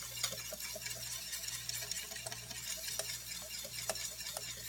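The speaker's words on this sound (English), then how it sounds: "But just keep whisking and whisking" A whisk stirs hot caramel sauce in a pot with rapid, faint scraping and ticking strokes over a soft, steady background hum. No one speaks.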